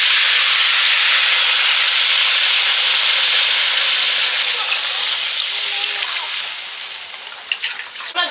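Water poured into a hot pot while cooking khichuri sends up a loud, steady steam hiss close by, easing slightly toward the end as the sizzling settles.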